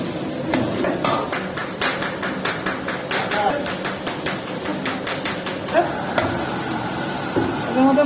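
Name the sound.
chicken lightly frying in spice masala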